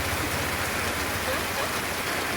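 Steady heavy rain pours down onto a water-covered road in a continuous even hiss, close and constant throughout.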